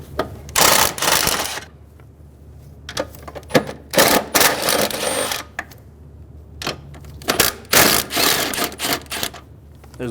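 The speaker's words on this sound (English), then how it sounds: "Using a 13mm socket, remove the 3 nuts out of the battery tray." A 13mm socket ratchets in quick clicking bursts while nuts come off the battery tray of a 2000-2007 Ford Focus 2.0L, several close runs of ratcheting separated by short pauses.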